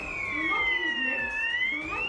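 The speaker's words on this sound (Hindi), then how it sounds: "फिर फायर अलार्म बजाकर लोगों को अलर्ट किया" A fire alarm sounds during a fire mock drill, a loud, continuous electronic tone that sweeps slowly down and back up in pitch, heard steadily throughout.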